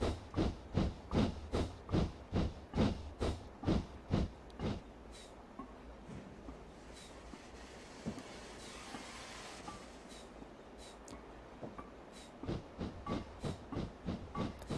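Steam locomotive on the Darjeeling Railway in the Train Simulator Classic video game, with rhythmic chuffing exhaust beats that fade into a steady hiss midway before the regular chuffs return, fairly quiet overall.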